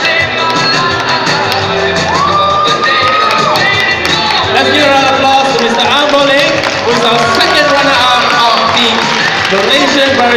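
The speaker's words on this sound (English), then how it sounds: "Let's give a round of applause to Mr. An Bo Ling." Crowd at the Malaysia Barista Championship 2015 results cheering and shouting for the runner-up, a loud continuous mix of whoops and yells with voices over it.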